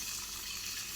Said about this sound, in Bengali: তো আমি জল দিয়ে দেবো, কেমন।